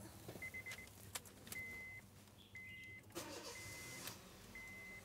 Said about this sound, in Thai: คันนี้สตาร์ทแล้วเราก็เร่งเครื่อง